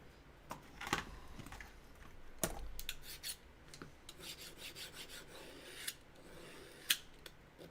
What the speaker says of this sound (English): Need a sharpener, sharpener, sharpener, sharpener.